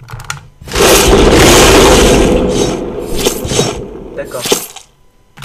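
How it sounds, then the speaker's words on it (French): Explosions in the video game Happy Wheels erupt as a loud, rough burst that lasts a couple of seconds, followed by shorter crashing blasts that fade toward the end. "Je crois que c'est vraiment des explosions les lettres."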